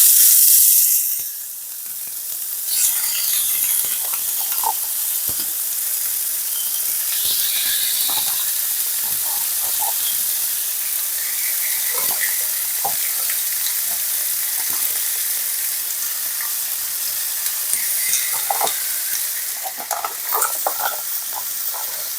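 Boneless skinless chicken thighs sizzle in a grill pan, a steady, close frying hiss scattered with small pops and crackles that runs the whole time with no talking.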